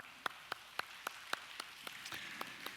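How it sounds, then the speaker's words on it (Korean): A pastor leads clapping in a church service, with about ten steady, evenly spaced hand claps at a moderate level against a quiet room. "여러분에게 제가 위로와 격려의 박수를 보내겠습니다"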